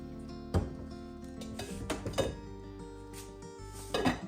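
A metal lid set onto a pot of broth in a kitchen, a few clanks and clinks of cookware, close and moderately loud against quiet background, no talking.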